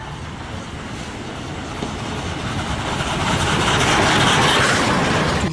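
A toy Thomas the Tank Engine train rattles along its track with a continuous clicking whir that grows slightly louder, steady and close, with no talking.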